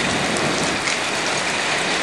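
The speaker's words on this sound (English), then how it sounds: "Well, here comes your hail." Hail and rain drumming on a car during a strong Texas thunderstorm, a dense, even hiss of close impacts that holds steady without voices.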